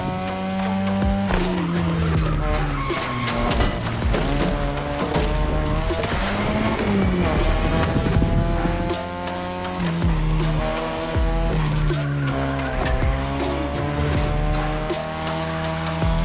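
Racing car in The Crew Motorfest sliding loosely through corners on a touge-style road, tires squealing and skidding over a steady loud engine roar, continuous throughout with repeated drifts.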